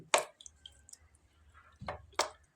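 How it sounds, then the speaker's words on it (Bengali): Water added to a pot of sour fish curry with elephant apple: a few close, wet splashes and plops, the first sharp, then two more near the end, with quiet gaps between. "একটু জল দিয়ে দিই।"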